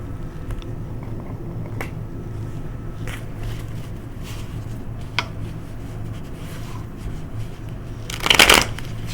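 Tarot cards are shuffled and drawn by hand: soft, scattered card rustles over a steady low room hum, then a louder brisk burst of shuffling near the end, with no talking.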